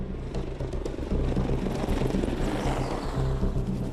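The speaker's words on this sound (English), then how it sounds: "the most lethal attack helicopter in the United States inventory" A Boeing AH-64 Apache Longbow attack helicopter flies nearby, its rotor chopping and engine roaring steadily and loudly throughout, with no voices.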